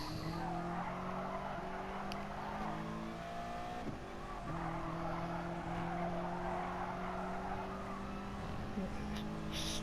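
A race car in a racing video game heard from on board, its engine droning loud and close with rising and falling revs through gear changes and corners, while a commentator talks over it.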